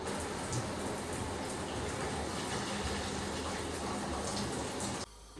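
Bath water draining from a tub after a post-squat recovery soak, a loud, steady rushing gush of water close by that cuts off abruptly near the end.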